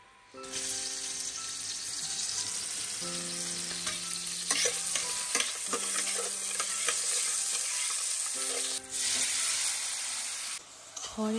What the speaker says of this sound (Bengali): তাই আমি এখন নুডলস করছি।